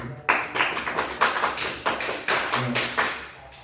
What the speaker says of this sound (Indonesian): kita berikan aplaus pada kita